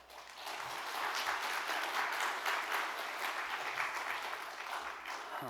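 A church congregation claps steadily for several seconds during a Sunday service, a dense, even patter of applause with no talking.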